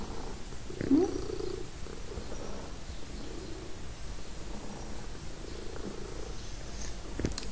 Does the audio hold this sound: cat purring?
yes